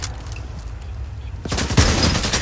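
Gunfire in Fallout 4 breaks out loudly halfway through, a quick burst of shots over low game ambience that had been quiet before.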